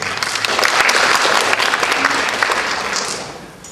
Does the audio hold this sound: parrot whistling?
no